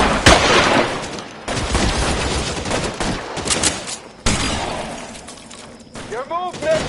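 A video game shootout in LA Noire brings rapid, loud gunfire in bursts with sharp cracks, sudden breaks between volleys and shouting voices over the shots.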